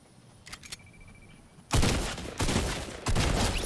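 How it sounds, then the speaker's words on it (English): Gunfire in the Fortnite video game: after a quiet stretch, three loud, close bursts of shots hit in quick succession, each a sharp broadband blast that rings on briefly. "I'm gonna shoot him."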